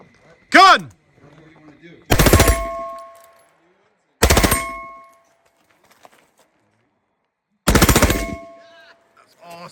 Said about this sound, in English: our student runs it on the full auto setting with a 5-round burst at each one of those specific movements